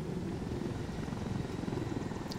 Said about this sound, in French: je prends un truc volant. C'est-à-dire l'hélicoptère qu'on a posé